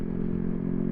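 Motorcycle engine labouring up a steep hill, a dense low rumbling drone with clattering, steady and close, running alone for under a second.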